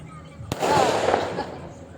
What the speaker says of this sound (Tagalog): May fireworks guys.